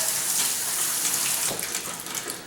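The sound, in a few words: rinsing drained soaked cashews under tap water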